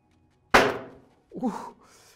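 A single sharp, hard clack of a realme Narzo 30 phone in its case hitting the floor rings briefly, then a voice reacts with a short exclamation.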